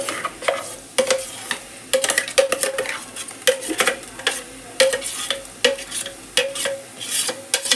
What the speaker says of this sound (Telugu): పేస్ట్ అంతా వేసి మంచిగా కలుపుకోవాలి